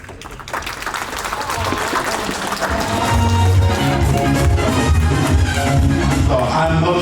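Sustained audience applause fills a hall at the Essoh Attah Development Association's 2022 USA convention, dense clapping that grows louder after a few seconds, with a low musical hum and faint voices underneath.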